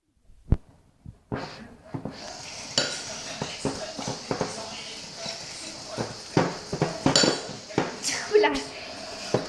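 A whisk beats chocolate cake batter in a bowl, with irregular clinking strokes against the rim, close by and mixed with a person talking.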